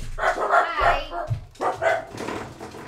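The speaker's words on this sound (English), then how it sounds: "This is gonna keep barking." A dog barks repeatedly nearby in quick bursts, a few sharp yips mixed in, with a short pause midway.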